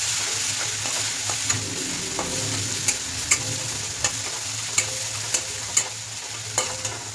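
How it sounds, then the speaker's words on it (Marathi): Garlic and green chili paste fries in hot oil for aloo paratha filling, a continuous close sizzle broken by regular, distinct spatula scrapes and taps against the pan, with no talking. "लसूण मिरची वाटून घेतली होती ना आपण, ती पेस्ट त्यामध्ये तेलामध्ये टाकून घ्यायची. ठीक आहे, त्याला थोडं हलवून घेऊ आपण."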